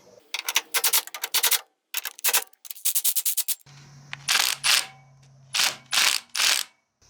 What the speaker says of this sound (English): And this one I am going to have to get a wrench on to do that one.